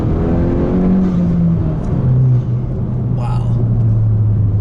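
Turbocharged Honda Civic Si engine pulling under acceleration from inside the cabin, a steady loud drone with rising tone across the gears, with a short pop partway through.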